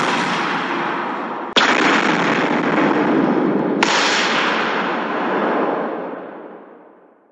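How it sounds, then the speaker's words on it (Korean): Dynamite blasts at a stone quarry, two sharp loud cracks about two seconds apart, each over a dense sustained rumble that slowly fades away. "숨돌릴 새 없이 연신 다이너마이트의 폭음이 터졌다."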